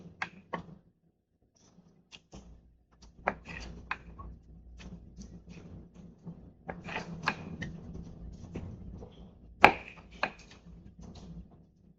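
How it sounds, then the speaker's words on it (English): A knife slicing tri-colored cherry tomatoes in half on a cutting board, heard as sparse, quiet taps and cuts spaced irregularly, with one sharper knock near the end. "So I will cut my tomatoes in half."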